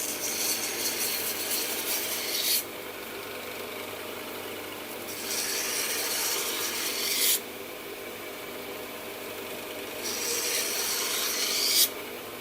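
Knife blade sharpened on a belt grinder fitted with a coarse belt, three loud rasping grinding passes with a steady motor hum running between them.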